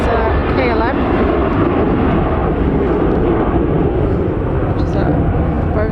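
A KLM Boeing 737-800 airliner takes off at Manchester Airport, bound for Amsterdam: a loud, sustained broadband jet roar that fills the whole stretch, with a person talking over it.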